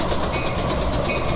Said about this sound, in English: This would appear to be a Metra Express.